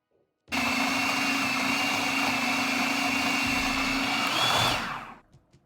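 A blender pulses avocado and cacao powder into a raw vegan frosting, a steady loud whirring motor hum running about four seconds before cutting out, with no talking over it.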